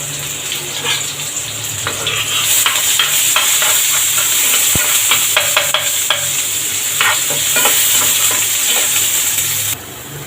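Garlic, onion and torn dried chilies frying in oil in a frying pan, a loud continuous sizzle close by, broken by repeated scraping stirs, ending with a quieter sizzle.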